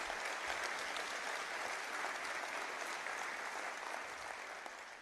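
A large audience at the Maryland county leaders' summer conference closing address gives conference staff a sustained round of applause, with dense, even clapping throughout that eases slightly at the end.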